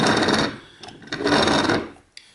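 Plastic gears turning inside a LEGO Power Miners Thunder Driller 8960 set, giving a close, raspy grinding in two long bursts separated by a short pause, with a brief click at the end.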